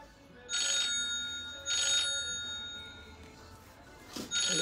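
A telephone rings in three bursts of electronic trilling during a live online shop broadcast, each burst lasting about half a second with short pauses between, fairly clear over a quiet room.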